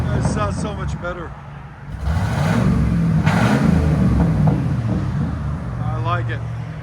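A truck engine idles and revs with a deep rumble after its clogged catalytic converter has been cleared, swelling louder in the middle, while people talk briefly at the start and end.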